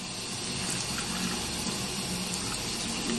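Water pours steadily onto a shoe treated with beeswax during a waterproofing test, making a constant close hiss of running, splashing water with no voices.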